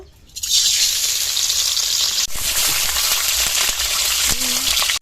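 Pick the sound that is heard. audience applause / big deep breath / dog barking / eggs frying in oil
eggs frying in oil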